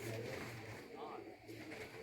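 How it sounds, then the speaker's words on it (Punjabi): Pigeons on a rooftop in a rural Punjabi setting give low, soft cooing that repeats a few times at a quiet level, mixed with faint background voices. "ਤੇ ਕਬੂਤਰ ਜਾ ਚੜੇ ਉੱਚੇ ਸਾਰੇ"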